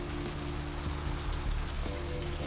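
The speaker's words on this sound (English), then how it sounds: "I think they did a particularly good job on the rain sound" Steady rain falls in the video game Vampire: The Masquerade – Bloodlines, a dense hiss of drops on surfaces throughout, moderately quiet with a low droning hum underneath and no speech.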